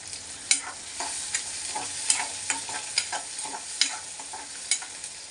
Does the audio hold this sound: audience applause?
no